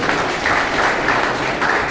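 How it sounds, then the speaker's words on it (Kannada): Audience applause at a stage function, a dense, loud burst of many hands clapping together that holds steady throughout, heard from within the crowd. "ಮೇಡಮ್ ಅವ್ರಿಗೆ ಒಂದು ಚಪ್ಪಾಳೆ ಹಾಕೊಳ್ತೇವೆ"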